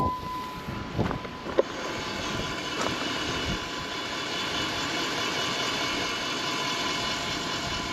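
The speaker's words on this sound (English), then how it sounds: "Pump's running." Electric FASS fuel lift pump on a 2005 Ram 2500 whirs steadily with the key on and the engine off, a continuous drone with a few brief clicks near the start and a breezy background.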